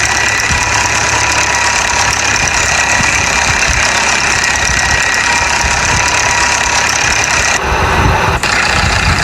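A Mahindra Arjun 605 tractor hauls two 18-foot trolleys up a sand dune, its diesel engine roaring loud and close in a steady, unbroken labouring drone with no voices.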